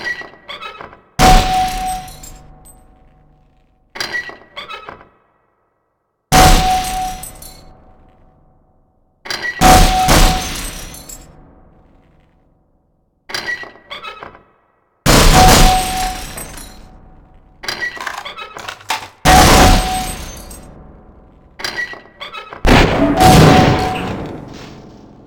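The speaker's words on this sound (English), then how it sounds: "To fire your grenade launcher, use your alternate fire button. Certain targets will break only when hit by grenades." Grenade launcher shots in Half-Life: Source's hazard course target range, a series of loud, spaced booming thumps, several followed by sharp breaking glass-like crashes as targets shatter, with silent gaps between bursts.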